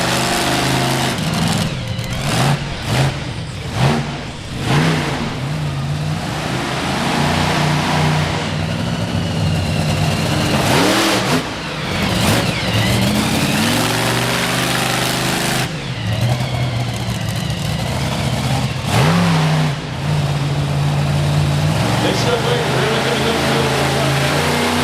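The Samson monster truck's engine roars and revs repeatedly at Monster Nationals at the Indiana State Fair in Indianapolis, loud surging bursts with brief dips, while an announcer talks over the racket.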